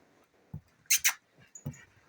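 A few soft, high-pitched whimpers and brief squeaks from a dog, spaced irregularly and close by, with quiet background between them.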